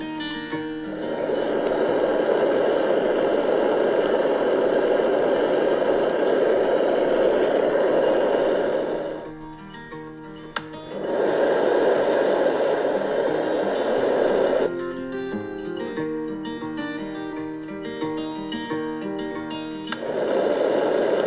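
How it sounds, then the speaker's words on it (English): A Dome Classic white noise machine runs with a steady broadband whoosh that drops out briefly twice, then resumes alone, holding a constant, even level. "But a white noise machine, right? And so I recommend this one. This is the Dome Classic."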